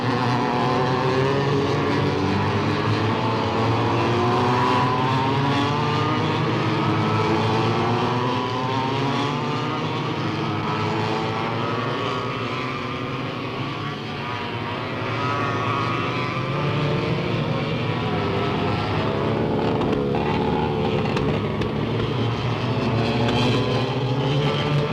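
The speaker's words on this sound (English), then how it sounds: "That's karting, motor racing in miniature." Small go-kart engines race at an RAF Lakenheath circuit in 1964, a continuous loud, buzzing drone of several motors blending together with wavering pitch throughout, no voices over it.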